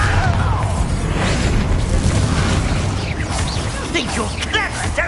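Bombarda spell explosion in the Hogwarts Legacy video game: a dense, rumbling blast and crashing debris amid spell effects, loud and sustained, with people talking over it.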